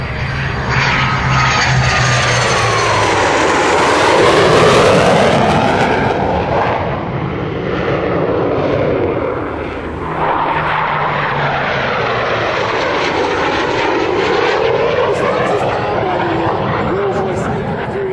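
A Hawker Hunter jet flies a display at Dunsfold, its engine roar swelling and fading in long sweeping passes, loud and continuous with a whining rise and fall as it goes by.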